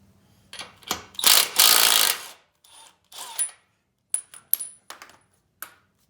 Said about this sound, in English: I don't know if the impact will take it off or not,